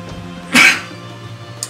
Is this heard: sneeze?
yes